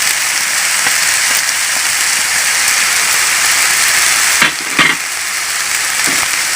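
Fried rice with sliced ginger and pickled cabbage stir-fried in a hot pan, a steady loud sizzle throughout with a few scraping tosses near the end, no talking.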